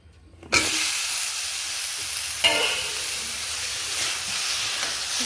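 Fried hog plums hit melted batasa sugar in a pan for a sweet-sour pickle, setting off a sudden loud, close sizzle that hisses steadily, with a second brief surge partway through.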